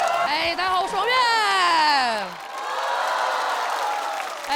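Audience applause breaks out at a stand-up comedy show, swelling into steady, full crowd clapping after a voice speaks over the opening seconds.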